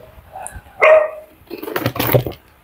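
A dog gives a single sharp bark followed by a couple of softer yips and whimpers, fairly close against a quiet background.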